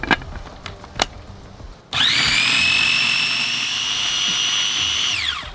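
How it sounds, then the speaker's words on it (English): A blender whirs loudly as it blitzes a sauce of ginger, maple syrup and white wine vinegar, a steady high motor whine that starts abruptly after a few clicks and knocks and runs on to the end, with no talk. "at this point, we're gonna go ahead and blitz it up"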